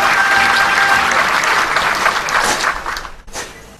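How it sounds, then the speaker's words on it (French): A crowd at a military parade gives a loud, dense round of applause for marching soldiers, steady cheering claps that taper off and fade near the end. "a soulevé une salve d'applaudissements nourris"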